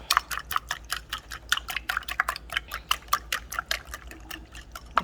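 A fork whisks eggs in a bowl, making a fast, steady run of light ticking clinks close by, with no talking.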